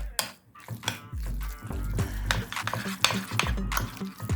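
A spoon works through a thick, wet chicken burger mixture in a bowl, producing squelching stirs and occasional scrapes against the sides.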